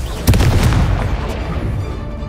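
A Confringo fire blast spell explodes in Hogwarts Legacy, a sharp booming burst with a brief crackling tail that rumbles and fades over a couple of seconds.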